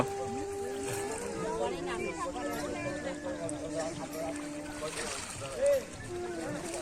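A boat moving on river water, with a continuous low wash and slosh of water beneath people talking nearby.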